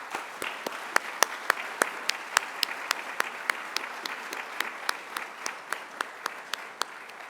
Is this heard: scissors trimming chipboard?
no